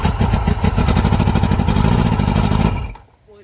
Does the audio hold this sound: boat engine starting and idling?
yes